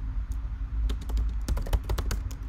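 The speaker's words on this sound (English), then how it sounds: "So I'll just type that in." Keys clatter on a computer keyboard during coding work, first a couple of isolated taps and then a quick run of close, crisp keystrokes over a low steady hum.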